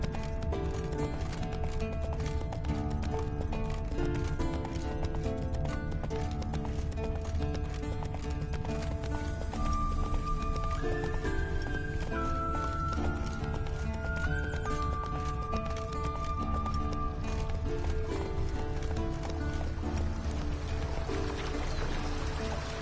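Roach, the horse in The Witcher 3, gallops with a continuous rhythmic clip-clop of hooves and whinnies partway through, layered over game ambience and a flowing-water backdrop.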